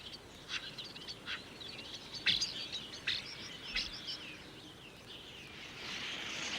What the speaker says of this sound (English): starlings often nest in loose, noisy colonies